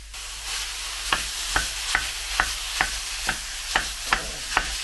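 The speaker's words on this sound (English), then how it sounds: "starting with the Tesco one, it's time to cook. Yeah, there's that sizzle." Steady sizzling of beef mince frying in a pan, with regular scraping stirs about every half second, close and continuous with no talking.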